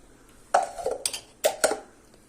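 A spoon stirs apple jam with lemon juice in a pot, giving a few sharp clinks and scrapes against the metal at uneven intervals, close and fairly quiet with no talking.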